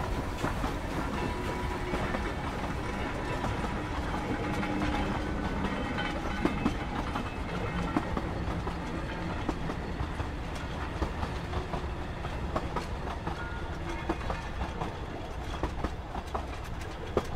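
Train noise in the video game Promesa: a steady, loud rumble of rolling railcars with rhythmic clickety-clack from the wheels, continuous throughout with no talking.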